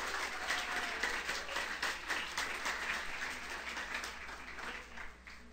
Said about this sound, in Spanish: Den un aplauso a Dios por eso.